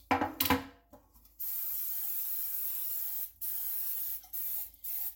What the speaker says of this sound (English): We're just going to spray these lightly with some cooking spray so that the custard doesn't stick.